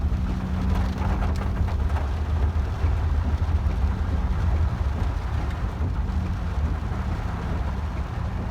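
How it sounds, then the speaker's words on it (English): Rain patters steadily on a caravan awning, a continuous dense wash of drops with a low rumbling undertone, heard close and evenly for the whole stretch without any voices. "It's just raining a little bit."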